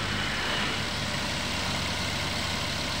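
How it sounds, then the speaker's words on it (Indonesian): Toyota Avanza engine idling at about 1000 RPM just after starting, running with a slight vibration; a steady, continuous low rumble with a broad mechanical hiss, heard close up and alone. "RPM nya masih di angka 1000 karena dia baru di starter"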